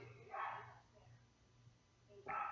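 Dogs bark in two short, fairly faint bursts, one early and one at the end, with quieter room noise between them.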